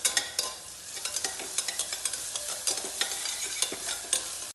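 Sliced onions sauté with salt in a pan, a close steady sizzle broken by repeated scraping and stirring strokes, with no talking.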